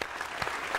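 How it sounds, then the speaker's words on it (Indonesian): A studio audience on an Indonesian TV show breaks into a short, dense burst of applause that fills the moment with no voices on top. "Tepuk tangan buat The Comment."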